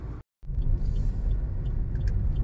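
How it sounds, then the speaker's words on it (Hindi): Cars speed along a road in Ghaziabad, making a steady, close traffic roar with deep rumble. A short dropout breaks it near the start, then the rush continues unbroken. "गाड़ियां भी आ रही हैं स्पीड में"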